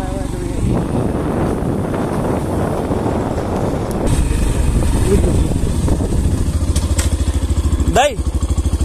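Motorcycles ride past on a road near a temple, their engines droning loudly and steadily throughout, with a closer engine rising in pitch near the end and wind buffeting the microphone; someone speaks briefly over the noise.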